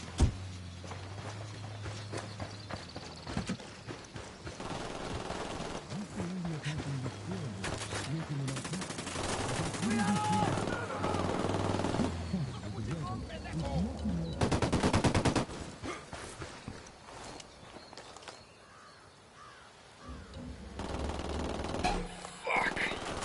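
Repeated bursts of gunfire in the open-world shooter Ghost Recon Wildlands, rattling and sustained over game ambience and footsteps, with players talking throughout.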